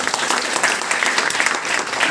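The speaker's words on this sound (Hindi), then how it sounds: "मैं चाहता हूँ कि आप सभी एक बार प्रेसिडेंट के लिए ताली बजाइए।" An audience at a training workshop claps continuously for the whole short burst, a dense, even patter of many hands close by.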